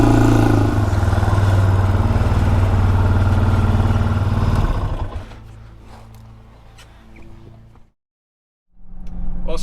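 A Honda 400EX ATV rides along dirt trails, its engine droning loud and steady, then easing off to a lower rumble before cutting out briefly and starting up again.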